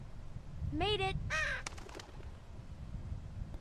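Two rising, warbling bird calls ring out close together over a low ambient rumble in The Walking Dead 2 video game, followed by faint clicks and quiet background.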